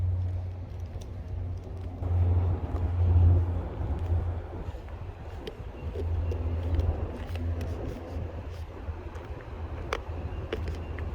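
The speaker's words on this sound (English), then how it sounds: "We're right by a highway, so that's why you're hearing the insane motors and" Cars roar along a nearby highway beside a nature walk trail, a continuous low engine drone that rises and falls as vehicles pass, with some wind buffeting and faint high chirps over it.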